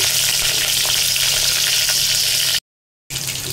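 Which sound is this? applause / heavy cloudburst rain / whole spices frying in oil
whole spices frying in oil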